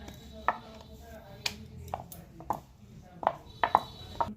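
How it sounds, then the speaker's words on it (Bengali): A knife cuts rolled dough into small pieces for papdi chaat, giving sparse, crisp knocks against a board spaced irregularly, with two or three quicker cuts near the end over a quiet room background. "ছোট ছোট করে মাপের কেটে নেব, যাতে এটা সমান থাকে।"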